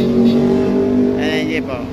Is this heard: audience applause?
no